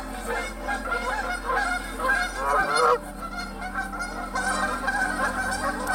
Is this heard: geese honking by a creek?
yes